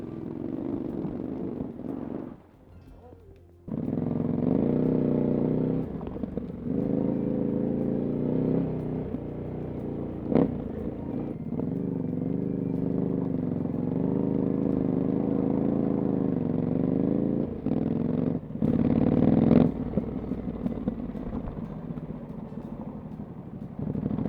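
A scrambler motorcycle is ridden off-road, its engine holding a steady, close, mid-pitched drone for most of the stretch, with a brief dip near the start and a few throttle changes later.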